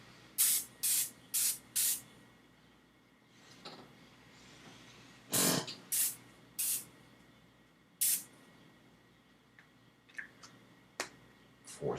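Ozium air sanitizer hisses from an aerosol can in short spray bursts, four quick ones, then another group of four, then fainter scattered puffs, close by and with no talk.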